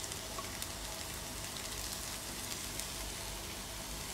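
Three chopped onions dropped into hot oil in a pan for a Kerala prawn roast, producing a steady, close, even sizzling hiss with no voices.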